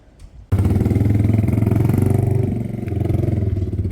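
A motorcycle engine starts abruptly and runs close by with a fast, steady, throbbing beat, dipping briefly before picking back up, loud and without talk.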